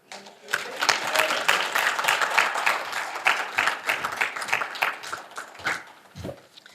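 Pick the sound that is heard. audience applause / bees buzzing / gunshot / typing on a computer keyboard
audience applause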